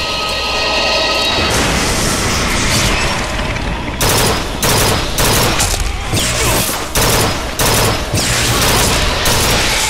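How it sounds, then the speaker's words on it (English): Burst-fire weapon shooting in the video game Bioshock Infinite, loud rapid volleys of shots in repeated bursts over a dense roaring background. "Because I would totally hip fire a burst fire weapon."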